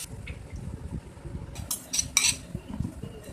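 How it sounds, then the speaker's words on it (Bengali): Rice is fried and stirred in a pot for hilsa pilaf, with a steady scrape of a metal spoon and a few sharp clinks against the pot's side, and no voices. "চাউলটা দিয়ে দিচ্ছে ভাজা ভাজা করতে হবে"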